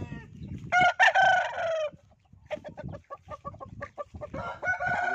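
A rooster crows loudly and close in two or three long calls, with clucking and other farm fowl noises in the gaps, on a farm where fowl are kept.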